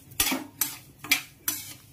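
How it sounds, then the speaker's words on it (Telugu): Vermicelli (semiya) being stirred and fried in a little ghee in a pan: four evenly spaced scraping, clattering strokes of a utensil against the pan, close up, over a faint background and with no voices. "దీంట్లో సేమియా వేసేసి వేయించుకున్నాము"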